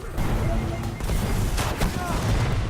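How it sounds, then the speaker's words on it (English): Gunfire in the shooter game Destiny, a dense fusillade of shots and booms running throughout, mixed with game effects and voices talking over it. "Getting shot at."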